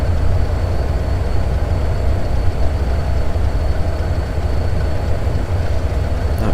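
A coal train of generic BNSF hopper cars in the Trainz simulator gives off a steady, loud low rumble with a constant engine drone and a thin high whine, unbroken throughout.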